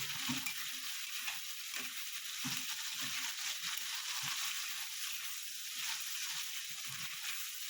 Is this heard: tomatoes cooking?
yes